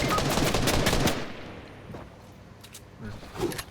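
Rapid gunfire in Fortnite, a loud dense burst of shots for about a second that then drops away to quieter background with a few faint later sounds, a voice talking over it.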